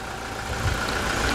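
Toyota Hilux 2.8 1GD diesel engine idling steadily, a continuous low rumble with a faint higher whine, heard alone at moderate level.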